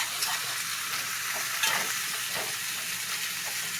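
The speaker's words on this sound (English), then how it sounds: "probably 2 tablespoons of heavy cream to give it that nice fluffiness. Stir that up." Heavy cream stirred into a pan sauce for seared chicken with sun-dried tomatoes, a steady close sizzle with a few soft scrapes of stirring and no talk.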